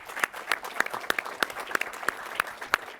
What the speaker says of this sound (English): Let's give a round of applause for Southwest Sports.